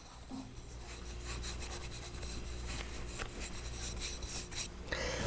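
A paintbrush works crisscross strokes across a canvas, blending red paint into a neighboring color, making a faint, steady scrubbing rasp with quick repeated strokes.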